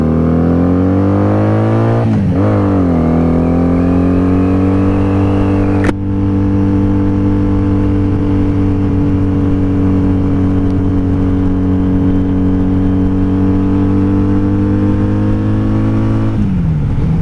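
A loud 1997 Honda Magna VF750C motorcycle engine drones steadily on a highway run, with a rising rev near the start and another at the end, holding a constant roar throughout at close range.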